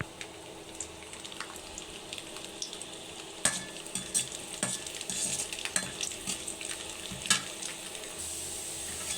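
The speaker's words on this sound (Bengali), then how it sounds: "সে রসুনগুলো হালকা আঁচে ভালো করে ভেজে নিব।" A pan of garlic cloves fries gently over low heat, with a continuous soft sizzle. Scattered sharper crackles and utensil taps come through close by, with no talking.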